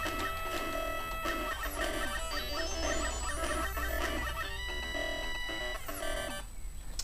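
Thin, tinny TurboGrafx-16 game audio from Vigilante with buzzy, crackly, almost corrupt-sounding tones in a repeating pattern, faint and harsh, cutting off near the end.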